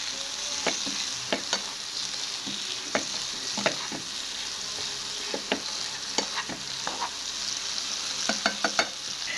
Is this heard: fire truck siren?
no